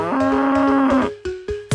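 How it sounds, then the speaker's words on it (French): A single long, loud cow moo, followed by a few short percussive knocks. "La vache."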